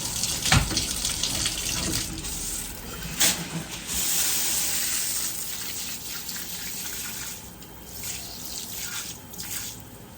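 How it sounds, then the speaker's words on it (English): Water runs steadily from a tap in a bathroom, rinsing cleaning foam off tile and grout, with a continuous splashing gush and small surges close by. "Let's give it a quick rinse."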